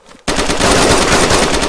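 Rapid automatic gunfire in the DayZ video game, a sudden onset after a brief quiet moment into a loud, dense, continuous burst of closely spaced shots.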